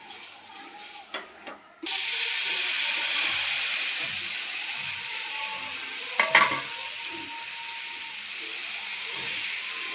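Ragi dosa batter sizzling in oil on a hot pan, a steady loud frying hiss that starts abruptly after some clinks and scraping, continuing evenly with a brief clatter midway and a voice murmuring underneath.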